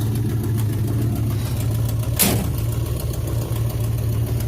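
A Jeep engine idling steadily with a low, constant rumble, close by, with a brief sharp swish passing through midway.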